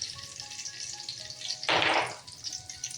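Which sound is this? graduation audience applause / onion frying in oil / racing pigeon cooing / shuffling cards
onion frying in oil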